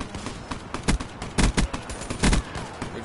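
Gunfire in Black Ops 3 multiplayer, with several loud, punchy shots at irregular intervals over steady background game noise.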